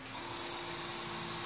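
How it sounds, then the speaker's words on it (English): An airbrush sprays white paint onto a canvas in a steady, soft hiss of compressed air that starts at once and holds even and close for a brief moment, alone with no talking. "I'm spraying white right now"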